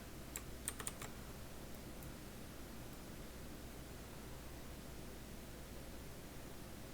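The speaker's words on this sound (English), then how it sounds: "Now we're going to type in like WED for Wednesday." A few soft, quick keystrokes tap on a computer keyboard near the start, then give way to a steady faint hiss of background noise for the rest of the stretch.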